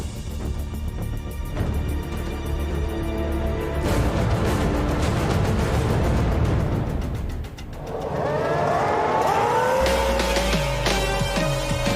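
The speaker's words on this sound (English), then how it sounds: "Lights, 5 title contenders with 5 races to go, and Alonso surges clear" Formula 1 race cars launching at a race start during the 2010 season, a loud roar of engines with screaming revs rising in pitch, a brief dip, then another car's engine climbing through gears close by.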